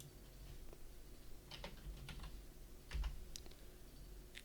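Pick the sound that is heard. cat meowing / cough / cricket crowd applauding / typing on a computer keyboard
typing on a computer keyboard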